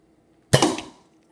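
A Nerf Bigshot blaster fires once indoors: one sharp, loud, close pop with a fast attack, then a short rattling decay that fades in under half a second.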